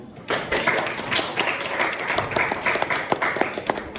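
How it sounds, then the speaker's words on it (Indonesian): A microteaching class audience claps and applauds steadily for several seconds, a dense patter of many hands with a few sharper individual claps standing out. "Boleh beri tepuk tangannya untuk Mas Sukman?"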